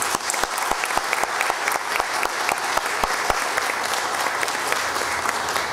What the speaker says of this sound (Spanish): Un aplauso también para él.